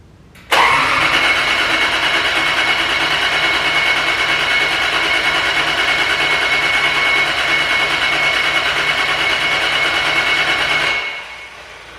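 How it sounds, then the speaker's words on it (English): A JZ-swapped car engine cranks steadily on the starter for about ten seconds without catching, a loud, even whirring drone that stops abruptly near the end. "everything's cranking fine"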